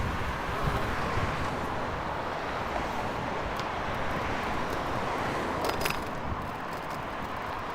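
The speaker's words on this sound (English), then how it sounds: "Ooh, windy." Steady wind roars across an open microphone while riding an e-bike through Toronto streets on Labour Day, a constant broadband rush that fills the whole stretch with no pauses and no one talking.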